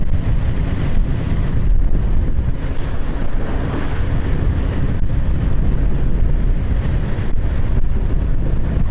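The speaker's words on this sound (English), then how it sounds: "Oh, it's a bit windy." Constant wind rushing and buffeting outdoors, a loud, even roar with low rumbling gusts and no voices.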